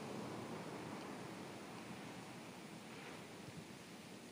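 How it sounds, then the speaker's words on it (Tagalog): Large ocean waves roll at the shore during high tide after a storm surge in Santa Ana, Cagayan, a steady broad roar of surf with wind, faint and continuous, without voices. "nakakatakot pa rin yung mga dambuhalang alon sa tabing dagat"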